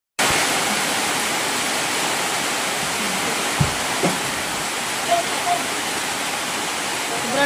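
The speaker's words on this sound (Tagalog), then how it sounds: "Sobrang lakas po ng ulan." Heavy rain pours down in a dense, steady roar from start to finish, with a few faint knocks and a brief voice murmuring beneath it.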